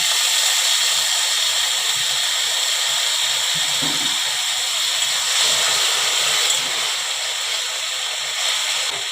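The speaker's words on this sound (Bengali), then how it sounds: "এগুলো একটু সেদ্ধ হওয়ার জন্য আমি একটু কম পরিমাণে জলটা দিলাম" Okra simmers in a pan with a small amount of water, giving a steady, even sizzling hiss with faint bubbling throughout, close and continuous with no talk.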